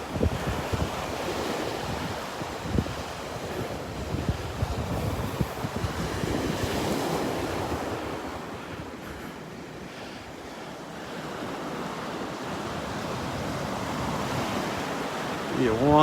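Ocean waves wash onto an empty beach at Delnor-Wiggins Pass State Park in North Naples, Florida, under steady wind. The surf is a continuous broad rush with heavy wind buffeting on the microphone.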